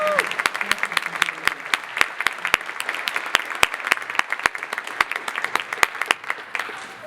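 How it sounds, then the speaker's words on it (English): A crowd applauds the musicians at a jazz band performance, dense clapping filling the whole stretch at a strong, even level. "I'd like to give them a round of applause"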